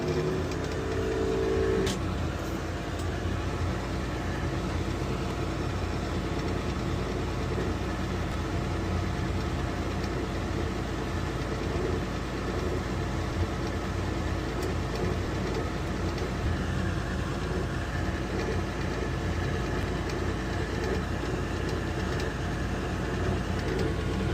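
A steady mechanical drone with a low rumble and broad whooshing noise runs without pause from a Weil-McLain HE boiler's exhaust inducer fan and burner operating nearby.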